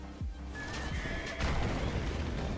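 A horse neighs in a multiplayer video game, one loud whinny rising over a busy background of game effects and rumbling, with no talking.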